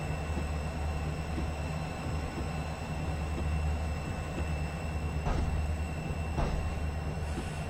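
A Southern Pacific SD45 freight train running at Soldier Summit in Train Simulator 2015: a steady low diesel rumble with rolling wheel noise, and a few brief sharp clanks or hisses scattered near the end.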